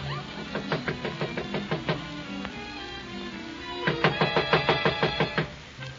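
Knocking on a door in a 1943 radio comedy show: a steady series of rapping knocks, then a pause and a second, louder run of quick knocks over a hissy old broadcast background.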